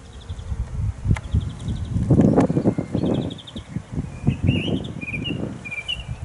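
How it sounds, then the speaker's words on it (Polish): Birds sing in a spring garden in May among blooming tulips: high chirps and trills repeat through the clip, with rustling and soft handling noises closer by. "Ptaszki się rozśpiewały."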